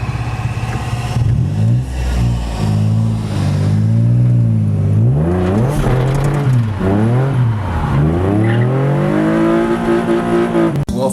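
A car drifts on a street during a Sunday of street skids, its engine revving repeatedly in rising and falling surges, loud and close, with tire noise underneath.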